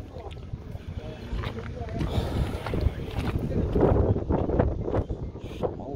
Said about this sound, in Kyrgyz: Шамал жүрүп атат.